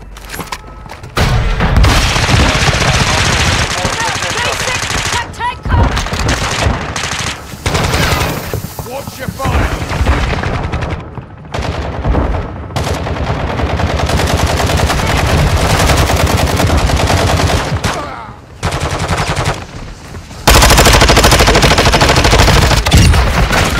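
Sustained video game gunfire, heavy automatic bursts and booming shots roaring loudly and nearly continuously with brief gaps, layered with explosions and clatter, and occasional voices underneath.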